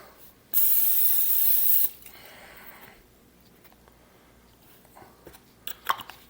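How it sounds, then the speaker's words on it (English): A loud aerosol hiss of cooking spray going into a pan for about a second, followed by quieter rustling and a few small clicks and taps. "Now I'm going to put a little bit of cooking spray in here."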